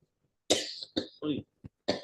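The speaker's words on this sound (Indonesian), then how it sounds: "maaf, waduh, jadi batuk saya" A lecturer in an Indonesian law class coughs several times in quick, close, harsh bursts, with short silences between them and no talk over them.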